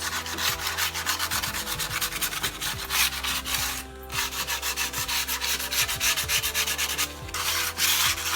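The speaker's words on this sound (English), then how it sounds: "sanding gently" Repeated back-and-forth strokes of sandpaper gently rubbing on a chalk-painted wooden tray, steady and close, with a couple of brief pauses.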